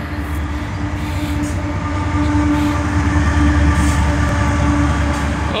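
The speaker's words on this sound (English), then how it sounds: "Got a train coming through." A westbound CSX container freight train rumbles past close by in McKeesport, a steady loud roar of rolling wagons with faint rhythmic clatter and metallic squeal, no voices.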